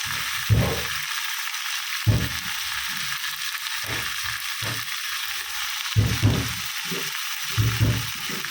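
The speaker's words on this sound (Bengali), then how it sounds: "বেগুন ভাজা" Brinjal (eggplant) slices fry in a pan in a home kitchen, giving a steady, continuous sizzling hiss throughout. Intermittent low knocks and clatter from cooking work break in over the sizzle.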